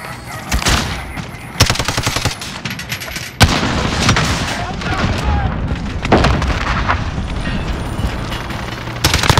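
Gunfight in Call of Duty Modern Warfare with a grenade blast, loud bursts of automatic fire and sharp booms, punctuated by heavier impacts amid constant battle noise.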